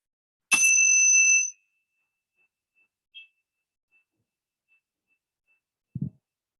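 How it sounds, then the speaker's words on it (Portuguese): A single meditation bell is struck once, its bright, clear tone ringing and fading within about a second, then near silence and a soft low thump. "Deixa que o som do sino seja um sinal para você relaxar"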